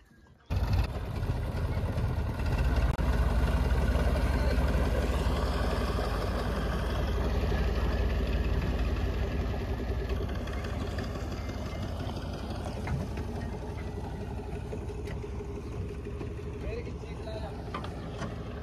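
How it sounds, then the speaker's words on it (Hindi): A boat engine, the same type used in farm work, runs with a steady droning rumble throughout, fairly close and constant in level, with people talking faintly over it. "ये रही बोट जिसमें ये इंजन लगा हुआ है, जो खेत में हमने लगाया है।"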